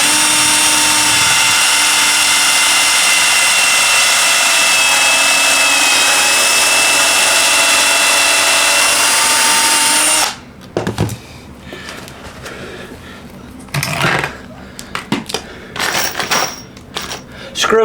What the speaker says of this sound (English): just a pilot hole and a screw in each corner.